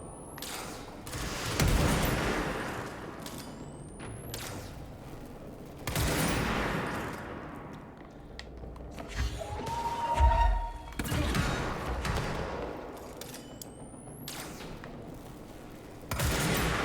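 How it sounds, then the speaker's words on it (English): Grenade blasts and gunfire in the video game Control, heard as repeated loud thumping bursts and booms. A sharp impact stands out near the middle, with chaotic combat noise continuing throughout. "someone's busy throwing grenades at me, and I don't know from where"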